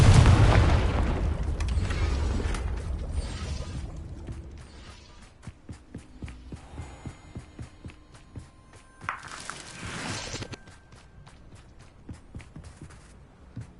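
A blasting-spell explosion in a video game, a deep booming burst that rumbles and fades, followed by scattered light thuds and a second smaller rumbling blast.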